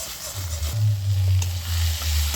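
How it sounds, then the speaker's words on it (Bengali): Fried potatoes dropped into hot spice paste in a pan for fish curry, a steady close sizzle with faint stirring scrapes, swelling as the potatoes land and holding loud throughout. "এবার আমি ভেজে রাখা আলুটা দিয়ে দিচ্ছি এর মধ্যে"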